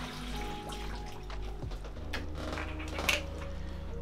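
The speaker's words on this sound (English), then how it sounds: "And then you just want to rinse out this just to get rid of any chemicals that was in it" Tap water runs into a plastic chemical mixing container as it is rinsed out after mixing C-41 film developer, a steady splashing stream with a low hum underneath and a brief clatter near the end.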